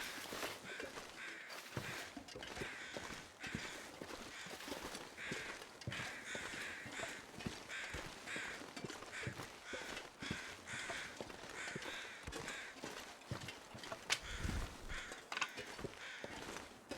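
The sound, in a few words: crows cawing in the video game The Long Dark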